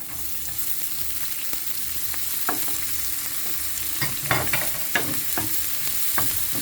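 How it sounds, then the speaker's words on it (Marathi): Chopped onions fry in hot oil in a pan for a crab filling, a constant close sizzle broken by several sharp clacks and scrapes of a spatula toward the end. "कांदो घालता."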